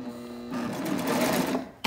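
A serger sewing machine stitches fabric in a straight line, a steady close mechanical whir that starts up after a faint hum and runs under two seconds before stopping.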